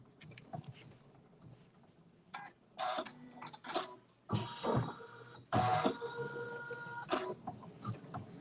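An embroidery machine stitches an appliqué design on fabric, giving bursts of rapid mechanical chattering and whirring separated by quieter pauses, close and clear with no talking.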